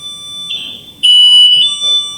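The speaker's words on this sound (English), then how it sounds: "the Amazing Grace song goes off on our alarm" An electronic alarm inside the chapel of historic Swensson Farm in Granite Falls, Minnesota, plays the Amazing Grace melody as a few shrill, sustained tones that step between pitches, loud and close.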